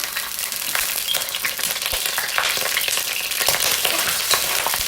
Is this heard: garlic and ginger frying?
yes